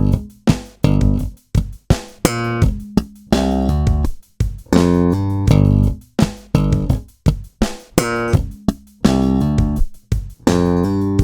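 Slap bass playing bar 2 of a stomp-style line, clipped staccato notes with sharp percussive slaps and pops in a busy, loud, choppy rhythm, each note cut short by gaps of silence.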